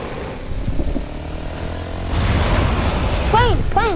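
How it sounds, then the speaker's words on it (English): A propeller airplane drones overhead in a video game, a rumbling engine swelling louder over the last couple of seconds, with rising and falling whooshing tones near the end. "Plane."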